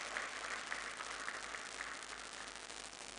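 An audience at the 2025 LITF opening ceremony claps in a steady, moderately distant round of applause, a continuous patter with no talking.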